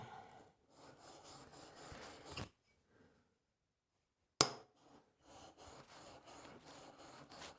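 Plane blade touched up on sharpening abrasive, quiet rhythmic rasping strokes in two runs separated by a silent gap and a sharp click, faint and close.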